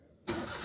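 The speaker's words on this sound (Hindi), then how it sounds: "गाड़ी को करते हैं बंद, करते हैं स्टार्ट" A Maruti Alto K10 with a misfiring engine cranks and catches, jumping from near silence to a loud, steady mid-pitched engine hum.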